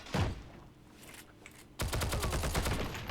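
STG-44 assault rifle fire in the World War II shooter game Heroes and Generals: a single shot, then a long rapid automatic burst of loud, evenly spaced rounds up close.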